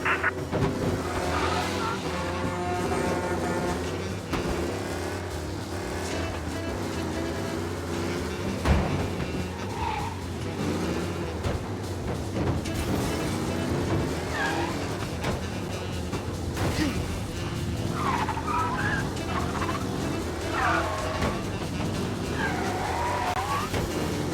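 Race cars in Mafia: Definitive Edition roar and tires screech repeatedly over a steady backing soundtrack, with no talking.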